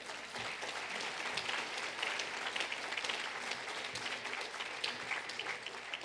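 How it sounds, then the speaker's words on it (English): Audience applause fills an executive briefing hall, steady dense clapping from a large crowd held at an even level for several seconds without any talk over it. "I think that's worthy of some applause"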